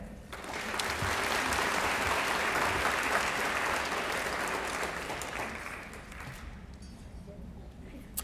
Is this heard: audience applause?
yes